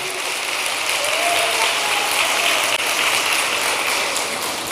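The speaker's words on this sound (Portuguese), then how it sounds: "aplaude a ele aí, só para encorajar os que estão em dúvida" A church congregation applauding, a dense, loud and steady wash of clapping from a large crowd that carries on without a break and with no voices over it.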